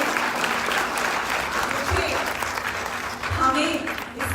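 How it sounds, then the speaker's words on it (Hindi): Audience at a business training session clapping for themselves, a dense patter of hands filling the room, with speech mixed in beneath the applause throughout. "सबसे पहले आप आज अपने आप में ताली बजाएं"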